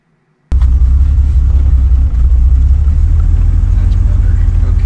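A Jeep Wrangler starts off on a test drive after a steering shaft replacement, its engine a loud, close, steady low rumble that sets in abruptly after a brief quiet moment and holds on.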